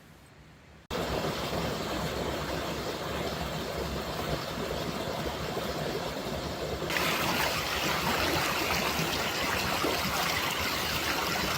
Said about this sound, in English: we took a walk around our camp and found this really beautiful creek